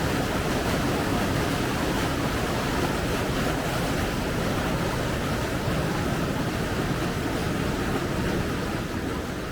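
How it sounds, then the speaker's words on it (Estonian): Roar of Låtefoss, a twin waterfall in Norway plunging 165 meters from Lotevatnet lake, a loud, dense, unbroken rush of falling water that holds steady throughout with no voices. "Tohutu müraga langeb Latefosseni kaksikkosk alla Lotevatnet järvest"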